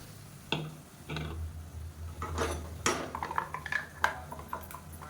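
Ground masala paste added to a pan and sautéed for biryani, with several sharp metal clanks and scrapes of a spoon against the pan over a low background sizzle.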